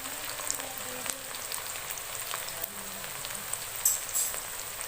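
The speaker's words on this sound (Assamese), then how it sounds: "এইবাৰ পিঁয়াজখিনি কোমল হোৱালৈকে ভাজি থাকিম" Onions fry in a pan for a home-cooked chicken curry, giving a soft, steady sizzle with faint crackles and a few small pops, quiet and continuous, no talking.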